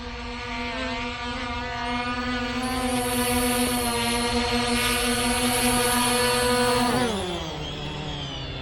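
A KFPLAN KF102 drone hovers close by with a steady, loud whine of buzzing propellers, then the pitch drops near the end as it comes down to land.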